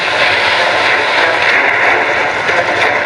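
A helicopter in the Godzilla Strike Zone video game gives a steady, loud, dense whirring roar that holds evenly throughout without a break.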